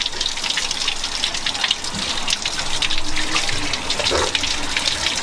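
A waterfall in Upper Adjara, Georgia, rushes in a steady, loud, broadband roar that continues without break, with no talking over it.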